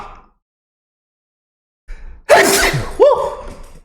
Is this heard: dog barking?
no